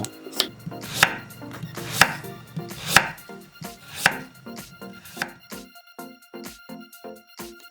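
A knife slices 400 g of radish into 0.5 cm slices, each stroke a crisp thud on the cutting board at a steady rhythm, the later cuts coming quicker and lighter.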